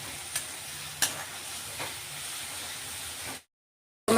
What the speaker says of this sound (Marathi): हिंग टाकतोय. तेलातच हिंग टाकायचा म्हणजे त्याचा सुगंधही छान येतो.